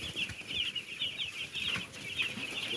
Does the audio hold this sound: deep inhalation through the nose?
no